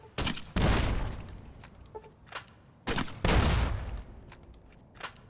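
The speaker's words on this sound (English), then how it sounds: "I'm gonna use the grenade launcher on him here." Two heavy grenade launcher shots in Fallout New Vegas, each a sharp launch thump followed moments later by a loud booming blast with a decaying rumble, plus a few smaller pops in between, fairly close and with no talking.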